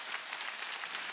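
A church congregation clapping during a Wednesday worship service: faint, brisk, continuous hand-clapping from many people in a hall, brief and even.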